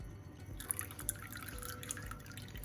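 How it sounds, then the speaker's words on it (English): Hibiscus leaf liquid for zobo drips and trickles into a bowl as the leaves are strained, producing a few soft close drips over a quiet, steady background. "Strain the leaf, the hibiscus leaf into this bowl."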